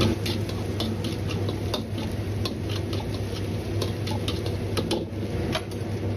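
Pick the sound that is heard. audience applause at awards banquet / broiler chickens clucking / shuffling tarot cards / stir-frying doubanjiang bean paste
stir-frying doubanjiang bean paste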